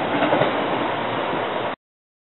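A commuter train with rail cars passes close by, a steady loud rolling rumble and rush that holds for under two seconds and then cuts off abruptly.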